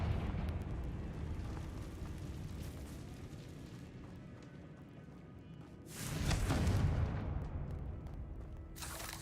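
A Confringo blasting spell explodes in Hogwarts Legacy: a low rumbling roar builds underneath, then a loud, close, booming blast erupts near the end, followed by a brief sharp crackle.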